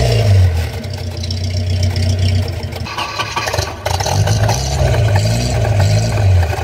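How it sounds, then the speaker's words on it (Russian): UAZ Hunter engine with a large aftermarket exhaust pipe, loud and close, rumbling low and revving in repeated surges, with a dip and a metallic scrape midway. "И давайте послушаем, как он газует."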